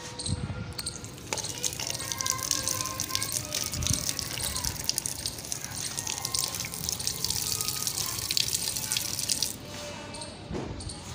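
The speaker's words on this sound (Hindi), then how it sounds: "तो दोस्तों मैंने इसके अंदर पानी भी डाल दिया है" Water is poured into a container during a chemistry reaction demonstration, a continuous splashing gush with dripping and trickling that runs steadily and then stops near the end.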